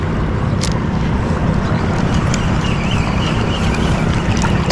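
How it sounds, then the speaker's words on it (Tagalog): Strong wind buffets the microphone with a loud, continuous low roar and rushing noise, no pauses, near and overwhelming. "Biglang lumakas yung hangin"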